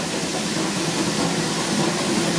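Steam logging locomotive hauling a train on the Yosemite Sugar Pine railroad, preparing to climb a steep grade; a steady close, loud rumbling hiss and chuff with no voices.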